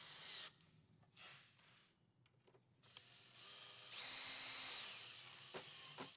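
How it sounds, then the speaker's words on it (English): Power drill boring 1/8-inch pilot holes two inches deep through a wooden Murphy bed side rail into the head rail, in several short whirring bursts with pauses, close and fairly quiet. "drill 2 1/8-inch pilot holes 2 inches deep through the side rail and into the head rail"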